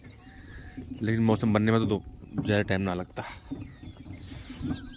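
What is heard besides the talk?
Asian koel calling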